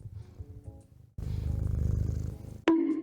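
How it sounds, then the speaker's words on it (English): A cat purrs right against a microphone, loud and close, a steady rumbling rhythm of in-and-out breaths that pauses briefly and then resumes. "You want to purr in that mic at least?"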